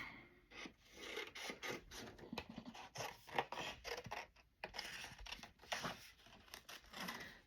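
Scissors cutting out a piece of paper for journal decorating, a close, quiet run of rapid crisp snips and rasping slides repeating steadily with brief pauses.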